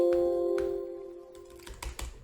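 Computer keyboard typing, a few soft separate keystrokes tapped close by over a faint fading hum.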